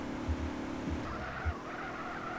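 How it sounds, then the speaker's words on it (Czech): A car drifts in the SA-MP multiplayer game, its tires squealing in a sustained skid over a humming engine, with a few low thumps early on; no one talks. "A drift."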